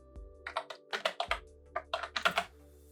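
Typing on a computer keyboard: a brisk run of about a dozen close, crisp key clicks in two bursts, separated by a brief pause, over low background hum and with no voices.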